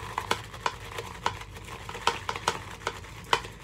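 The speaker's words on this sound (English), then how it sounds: "I'm gonna put just a couple drops of water here in the bowl, and I'm gonna start building my lather." A shaving brush works Victory shaving soap into a lather in a bowl, making soft wet swishes and squelchy taps in a quick, irregular rhythm, close up and alone.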